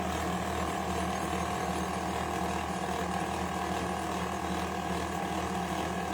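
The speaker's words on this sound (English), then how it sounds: "Feed rollers and blades strip the PVC jacket, exposing the copper core for collection" A wire stripping machine's feed rollers and blades pull PVC jacket off copper wire, producing a continuous dense mechanical clatter and hum, steady and close throughout with no pauses.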